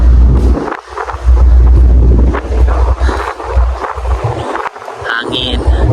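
Strong wind gusts roar and buffet the microphone outdoors on the upper deck of a passenger ship, loud and continuous with brief lulls.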